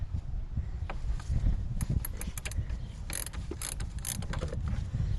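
Ratchet loosening 13 mm bolts on a Ram 1500 during radiator and water pump inlet tube work, giving bursts of quick clicking strokes over a steady background hum.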